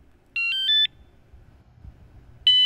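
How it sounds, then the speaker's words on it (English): A Velowave Ghost e-bike alarm arming: a quick series of three rising electronic chirps, close and loud, followed after a pause by another chirp starting. "Loud and obnoxious makes it great for an alarm, which I'll now arm."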